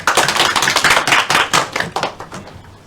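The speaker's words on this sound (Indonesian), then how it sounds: "Berikan tepuk tangan dulu untuk Bu Tarisa." A small classroom group claps at a microteaching session in a geography study program, fast uneven hand claps close by, loud and dense for a few seconds before thinning out.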